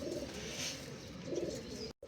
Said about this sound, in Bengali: তো এইটা হলো আঠারো নম্বর কবুতর